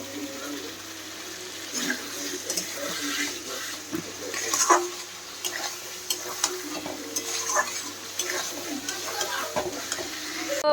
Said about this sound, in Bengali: মশলা কষাচ্ছি আলু দিয়ে